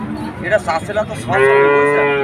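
After a few soft rustling sounds, a red calf at a cattle market lets out one long, loud moo nearby.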